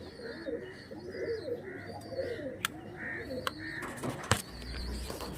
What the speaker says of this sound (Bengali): এই যে শুভদীপ নন্দীর বাড়ির এই 5টি পায়রা সিল করা হলো উড়ানোর জন্য